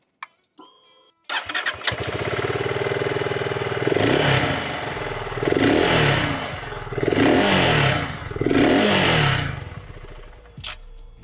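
A single-cylinder 650 motorcycle engine starts after a few faint clicks, then runs with a steady thumping idle, revving up three times in rising surges.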